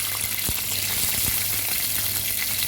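Green chillies, onions and garlic fry in oil with a continuous, close, crackling sizzle, broken by a couple of soft knocks from a stirring spoon.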